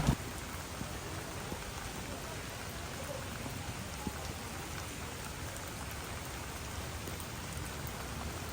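Steady rain patters on a stone road in Kyoto, a dense, even hiss of drops that continues unbroken with no voices.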